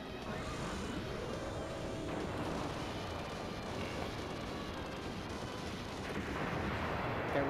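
A bomb explodes in the DoDonPachi shoot-'em-up arcade game, producing a dense, continuous roaring rumble of blasts that fills the whole stretch at a steady, loud level.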